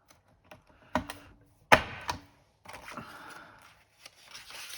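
Sharp mechanical clunks of a paper hole punch pressing through journal paper during pocket album crafting, a couple of distinct punches with some rustling and handling noise between them, close and fairly loud with no talking.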